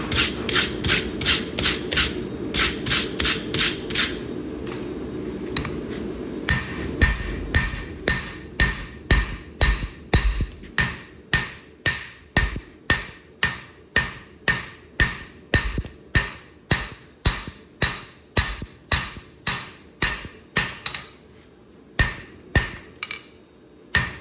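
A hammer strikes hot knife steel on an anvil over and over. The blows come in a fast, dense run, then settle into slower, evenly spaced ringing strikes. They are loud and close, with no speech.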